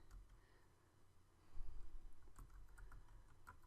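Computer keyboard typing a domain name into a web hosting control panel: a steady run of soft, close key clicks that grows slightly louder and busier partway through, with no voices.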